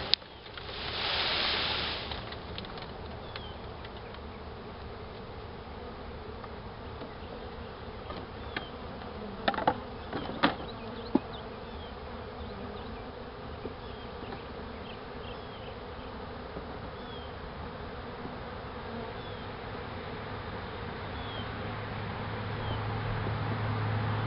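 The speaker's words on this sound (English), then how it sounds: "lot of bees are coming back out" Dense, continuous buzzing of a honey bee swarm shaken from a tree, a droning hum sustained throughout, with a few brief knocks partway through and no talking.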